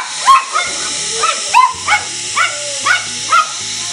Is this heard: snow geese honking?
no